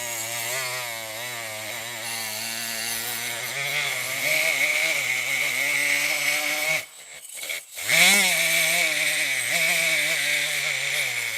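Rust cleaned off Corvette fuel pump parts with a power tool, a loud close whining buzz with shifting pitch that runs almost continuously, interrupted by one short stop and restart.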